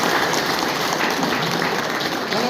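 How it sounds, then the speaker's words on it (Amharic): Dense, steady audience applause at a gathering fills the whole stretch, loud and even without a break, with no clear talk over it. "አጨብጭቡ።"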